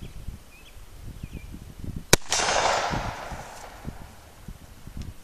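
A single sharp pistol sidearm gunshot at a shooting range, loud and close with a short echoing tail, amid quiet background noise.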